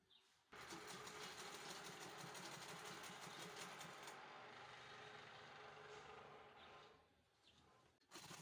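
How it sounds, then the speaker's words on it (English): A sewing machine stitches a hobo shoulder bag with a fast, steady mechanical chatter, close and loud, running for several seconds before slowing and stopping, then briefly restarting. "The side that I shaped, that is where I'm sewing now."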